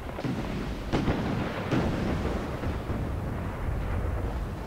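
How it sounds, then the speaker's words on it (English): Rockets hurtling in and bursting on a Napoleon Total War battlefield, a few heavy rumbling impacts under a continuous low roar of battle noise. "Four rockets hurtling in"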